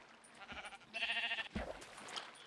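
Sheep bleating in a video game played in hardcore mode: one drawn-out, wavering bleat rises clearly over a soft, busy game background, followed by a shorter burst of sound.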